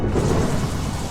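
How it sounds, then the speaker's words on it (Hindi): Heavy rain pours outside a hut while thunder rumbles, making a dense, loud, continuous roar that fills the short stretch without any voices. "झोपड़ी के बाहर सन्नाटा है, सिर्फ बारिश की आवाज आ रही है।"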